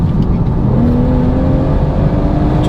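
Engine of a BMW M140i hot hatch revving, a loud, steady mechanical roar with a rising whine held close throughout, no one talking over it.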